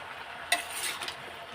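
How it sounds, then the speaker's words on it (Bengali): Mixed vegetables with salt stirred in a pan at home, a short quiet scrape of a spoon against the pan bottom with a light sizzle, soft and close with no talking. "নুনটাও দিয়ে দিলাম, দিয়ে এবার নাড়াচাড়া দেবো"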